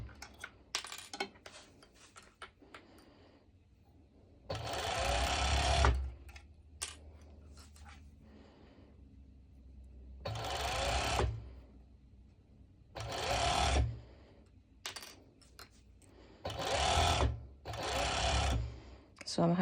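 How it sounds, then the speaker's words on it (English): Overlock sewing machine finishing the raw edges of a triangle kimono beach cover-up, running in several loud bursts of a few seconds each with quiet pauses between them. "this is the idea of it, to overlock, to try to cover the raw edges"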